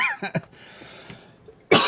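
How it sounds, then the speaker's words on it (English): A man with a lingering loose cough coughs a couple of times close up, short harsh bursts separated by a brief pause, followed by a louder final cough. "I've had this cough now for like 3 fucking weeks and it won't go away."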